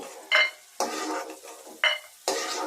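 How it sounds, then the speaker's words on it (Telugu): Peanuts sizzle in hot oil in a pan, broken by four loud bursts of stirring and scraping with a ladle, with no voices. "ఒక కూరగరిటెడు వేరుశెనగ గుళ్ళు వేసుకుని వేయించి తీసి పక్కన పెట్టేస్తాము"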